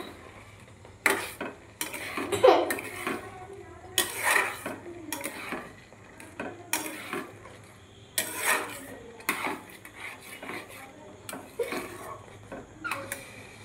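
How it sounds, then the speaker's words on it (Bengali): A spoon scrapes and clinks against a pan while dry fruits are stirred into semolina halwa, giving a series of sharp, irregular metallic knocks and scrapes, close and clear over quiet background. "এই অবস্থায় আমি ড্রাই ফ্রুটসগুলোকে দিয়ে দিচ্ছি, দিয়ে ভালোভাবে সুজির সঙ্গে নাড়াচাড়া করে নেব।"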